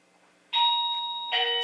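An indoor doorbell rings a two-tone chime, the first tone sustaining before a second note sounds, clear and close in an otherwise quiet room.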